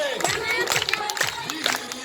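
A school audience at a January 26 Republic Day event claps and cheers together in a lively crowd, with voices and shouts mixed in.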